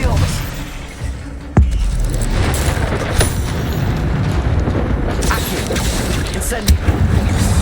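Spell effects from Hogwarts Legacy, with a sharp booming impact followed by a dense, continuous roar of magical and combat noise and several further bursts, loud and close throughout.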